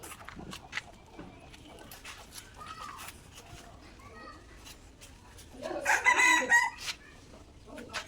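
A rooster crows once from some distance in a residential setting, a short, louder burst past the midpoint, while people talk quietly and faint background noise continues throughout.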